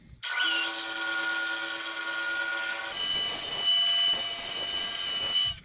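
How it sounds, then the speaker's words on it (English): A bandsaw cuts wooden guitar braces for ladder bracing, its motor whining loud and near in a steady high hum that shifts pitch midway as the blade bites into the wood. "So we cut these out on the bandsaw."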